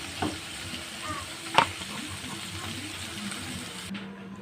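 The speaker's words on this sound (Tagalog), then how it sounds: "naiprito na natin yung parts ng pusit" Squid pieces fry in hot oil with a steady, soft sizzle, faint and continuous, broken by a single light clink of a utensil partway through.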